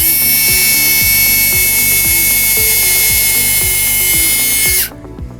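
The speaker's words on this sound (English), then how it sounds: "make sure you use your drill and pre-drill that spot" A power drill runs steadily at high speed while pre-drilling a screw hole near the end of a wooden deck board, loud and close with a rhythmic chugging underneath, then cuts off abruptly near the end.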